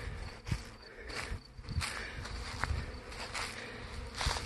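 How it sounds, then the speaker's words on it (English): A low, droning buzz of a honeybee swarm hums continuously, with faint rustling and a few soft thumps mixed in, fairly quiet and close by. "That sounds like still more bees up in there."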